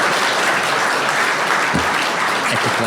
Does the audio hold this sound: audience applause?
yes